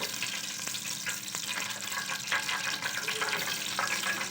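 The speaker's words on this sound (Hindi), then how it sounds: "तो मिर्च जब हल्के से फ्राई हो जाएंगे" Two green chillies frying in hot ghee for a gobhi curry give a steady, close hiss and sizzle with faint crackles, heard alone.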